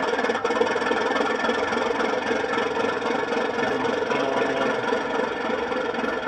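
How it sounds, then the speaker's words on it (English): An LGB White Pass locomotive model, number 2055, plays the dynamic brake sound from its ESU decoder as a continuous, even mechanical roar and hum that holds steady throughout, with no voices. "F4 is a dynamic brake for when it's operational or moving."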